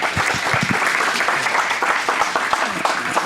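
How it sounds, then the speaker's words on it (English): An audience gives a round of applause, a dense and fairly loud patter of clapping that carries on for a few seconds, with a few faint voices mixed in. "So everybody, round of applause."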